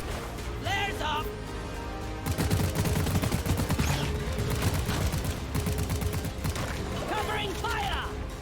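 Rapid covering gunfire in the Deep Rock Galactic mining game, dense automatic bursts running for several seconds alongside mechanical clatter, with brief synthetic voice-like chirps before and after.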